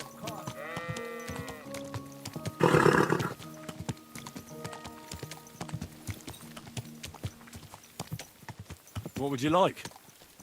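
Horse hooves clip-clop in Kingdom Come: Deliverance II beneath background music, with short bleating animal calls and someone speaking in between.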